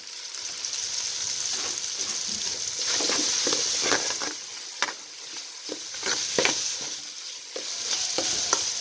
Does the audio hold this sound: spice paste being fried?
yes